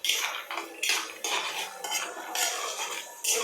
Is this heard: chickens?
no